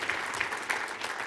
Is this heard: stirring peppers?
no